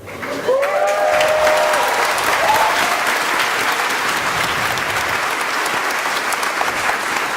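A graduation crowd for the class of 2019 breaks into applause after a track and field championship is announced, dense sustained clapping that rises quickly and stays loud throughout, with a brief whistle early on.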